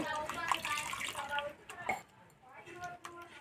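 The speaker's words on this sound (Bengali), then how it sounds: "এবার দুই থেকে তিনবার জল পাল্টে পরিষ্কার করে ধুয়ে নেব" Raw potatoes are rinsed and swished in a bowl of water, rinse water changed two or three times, giving close sloshing and splashing with a few drips and squishy handling sounds, loudest early and quieter toward the end.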